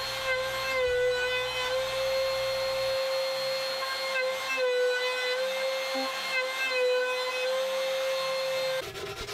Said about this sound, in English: We're going to do a 45-degree chamfer.